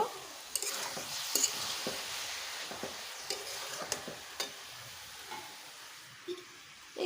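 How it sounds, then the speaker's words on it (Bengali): Grated coconut and jaggery stirred in a pan into a sticky dough, giving soft scraping and light sizzle with scattered utensil taps against the pan, close and steady, no talking. "এভাবে নেড়ে চেড়ে আঠালো একটি ডো তৈরি করব"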